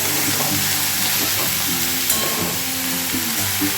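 Kochu loti, taro stems, fry in a pan over low heat with a dense, continuous sizzle and occasional stirring scrapes, while faint low tones hum beneath and no one speaks.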